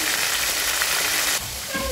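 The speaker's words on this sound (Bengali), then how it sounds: "ওইগুলো চুলায় ভাজতেছি" Loitta fish frying in a pan on a stove, a steady loud sizzle that briefly dips near the end before rising again.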